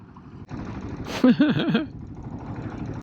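A Royal Enfield Himalayan 452 motorcycle engine idles in third gear at a low, steady pace with a rough rumbling putter, briefly rising in a throaty surge before settling back.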